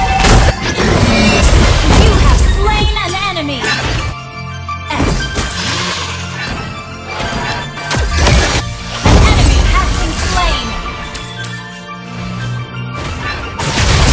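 Fiery skill effects from a mobile battle game with a fire rain shot ability: dense, loud crashing bursts and booming impacts that repeat in waves over a musical background, with no talk.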